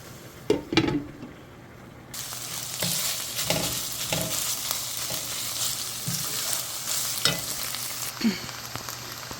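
Ground pork sizzles and fries steadily in a pan for Filipino spaghetti sauce, with a few sharp clinks and scrapes of a utensil stirring it, close and alone.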